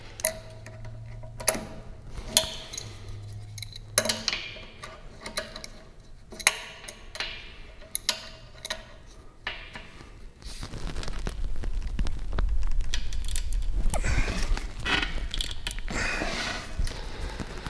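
A wrench turns the oil cap on a Quincy air compressor, producing scattered metallic clicks and ticks up close, then a louder, rougher scraping rumble in the second half.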